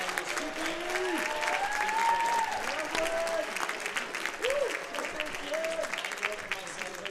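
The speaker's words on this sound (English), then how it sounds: "And for all the teachers that are here, let's give them a round of applause." An audience at a ballroom dance competition gives the dance teachers a sustained round of applause, dense clapping that holds steady throughout with a few scattered cheers and voices mixed in.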